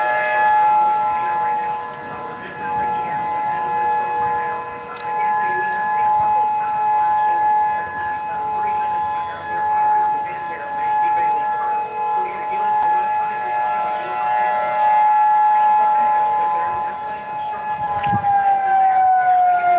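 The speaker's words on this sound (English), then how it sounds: "These are very similar to what we had for air raid sirens." A steady wailing civil defense tornado siren drones on continuously at a distance, holding a sustained tone that slowly bends downward near the end, with faint background noise.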